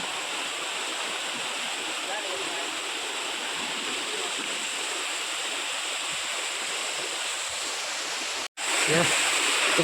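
Rushing water of Shivdav waterfall in Konkan roars in a constant broad wash, close by, with a brief cut near the end.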